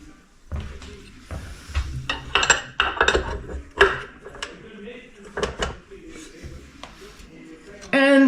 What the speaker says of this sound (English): I put in the dough hook.